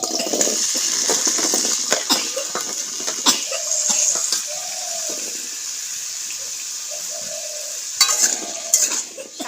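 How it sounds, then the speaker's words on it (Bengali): Potato pieces frying in hot oil in a wok: a steady, bright sizzling hiss runs throughout, broken by scraping and clattering as a spatula stirs them, plus a few faint muffled background sounds. "তো প্রথমে আমি আলুগুলোকে ভেজে নেব।"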